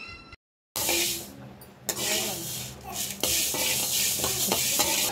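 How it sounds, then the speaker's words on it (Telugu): Fenugreek seeds dry-frying in a pan, a continuous close scraping and rattling with light sizzle as they are stirred, cut by a brief moment of silence near the start. "ముందుగా స్టవ్ ఆన్ చేసేసి ప్యాన్ పెట్టుకొని ఇందులో మెంతులు వేసుకొని ఫ్రై చేసుకోవాలి"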